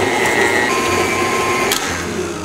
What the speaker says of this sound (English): I'm gonna use the paddle attachment and beat these until it's nice and fluffy.